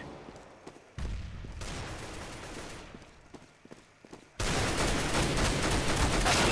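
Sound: rifle gunfire in Counter-Strike: Global Offensive video game

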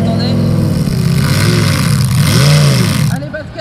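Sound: pulling vehicle with modified motorcycle or car engine revving

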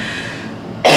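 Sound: cough

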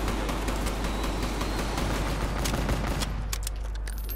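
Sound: shotgun fire in video game Black Ops

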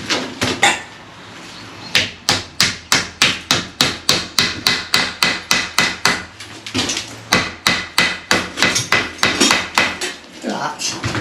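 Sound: claw hammer hammering

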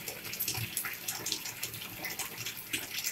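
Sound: water sloshing in bathtub with activated charcoal powder

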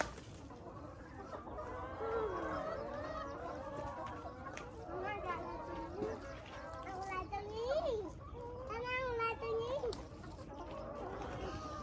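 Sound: chicken clucking

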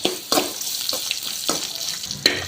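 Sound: small onions added to hot pan, frying

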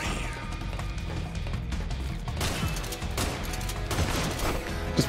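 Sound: shotgun firing in Metal Gear Solid 4 video game

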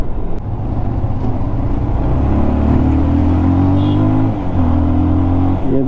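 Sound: Bajaj Pulsar 220F motorcycle riding

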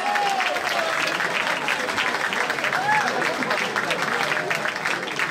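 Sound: crowd applause at a vogue ball

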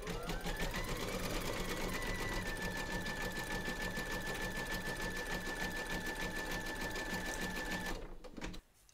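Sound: embroidery sewing machine stitching

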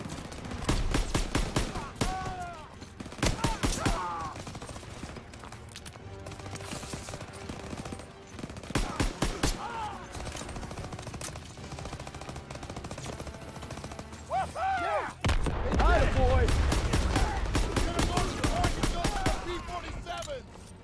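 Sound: gunfire in a WWII video game battle

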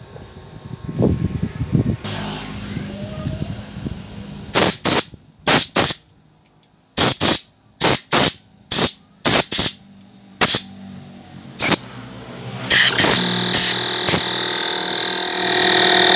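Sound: compressed air blowing out carburetor jets and holes

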